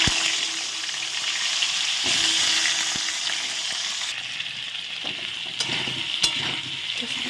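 Potatoes fry in hot oil in a pan, a loud continuous hiss and sizzle close by, with scattered clicks and pops and a sharp utensil tap near the end.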